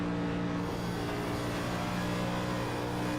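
A race car at Atlanta Motor Speedway is held in 5th gear, its engine droning loud and steady at a constant pitch with no shifts, close and continuous, with no talk.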